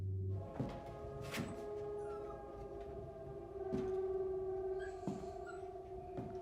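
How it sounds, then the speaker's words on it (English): Puppies whine and yelp in long, wavering high cries, several voices overlapping with sharp yips scattered throughout. "Oh, is it puppies?"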